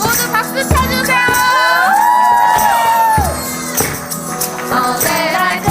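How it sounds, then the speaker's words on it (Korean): An audience at a society's founding general meeting claps and cheers with shouts and whoops while music plays, a loud crowd sound that rises and falls under singing. "모두 박수 쳐주세요."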